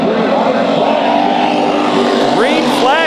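Hobby stock race cars roar together at the start of a heat race at Bakersfield Speedway, a loud, continuous engine drone with rising revs near the end, under an announcer's voice.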